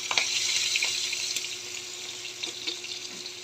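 Dried fish (tuyo) fries in a pan with a steady hissing sizzle and some crackle and pops, close and loud, with no one talking.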